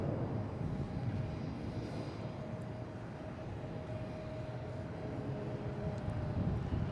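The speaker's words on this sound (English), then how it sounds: "A321. Heading to the beautiful sky." Airbus A321 taking off at Boston Logan airport, a faint, low, steady engine rumble with a thin whining tone, swelling slightly toward the end, no voices.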